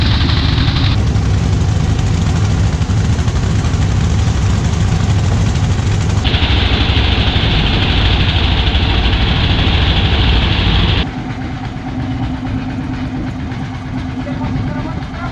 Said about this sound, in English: The motor on this boat is so loud and the fumes coming off of it are just disgusting.